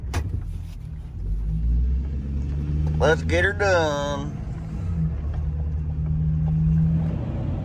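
Heavy old truck engine rumbling and revving as it backs into traffic, a steady low drone with a short whining rise in the middle, with someone talking over it.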